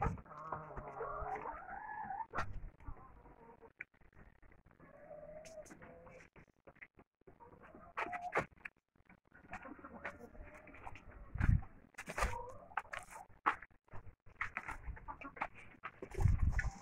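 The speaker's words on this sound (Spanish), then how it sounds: "Ahí están las gallinas más grandotas." Laying hens cluck and murmur continuously at close range inside a henhouse, with scattered sharper squawks and rustling throughout.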